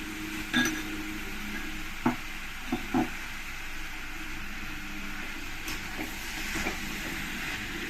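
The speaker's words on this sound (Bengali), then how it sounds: "মশলা আলুর সঙ্গে মোচাটাকে মিশিয়ে নিতে হবে" Spatula stirring boiled banana flower into spiced potatoes in a pan, with a steady faint sizzle and a few soft scraping knocks.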